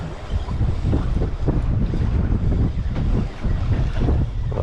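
Strong wind buffets a fishing boat at sea while squid fishing, a loud continuous rushing roar hitting the microphone with gusty low rumble and no voices.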